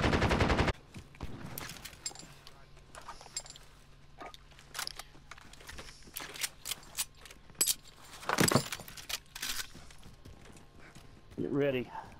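Scattered bursts of gunfire from enemies shooting in Call of Duty: Modern Warfare, sharp cracks spread irregularly across the stretch, some near and loud, others fainter, with people talking over them.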